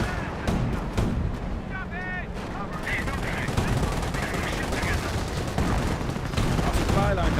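Panther tank firing in Company of Heroes, a loud battle of repeated gunfire bursts and heavy blasts running throughout, with someone commentating over it.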